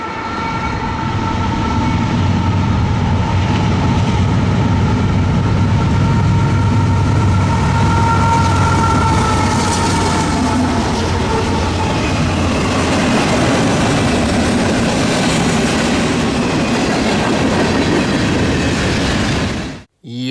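An eastbound manifest freight train rolls past close by, loud and continuous, with a rumbling engine giving way to the steady clatter and squeal of freight cars for the whole stretch.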